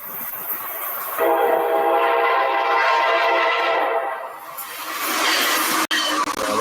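Amtrak Siemens ACS-64 electric locomotive in a troop-honoring livery passes close and loud, sounding a sustained horn over the rolling roar of the train, which then fades slightly before a sharp click and the continuing rumble.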